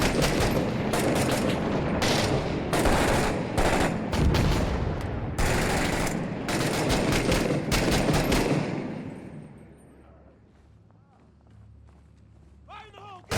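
Dense, sustained gunfire in the combat video game Six Days in Fallujah, rapid overlapping bursts and machine-gun fire close by for about nine seconds before fading into quieter background rumble.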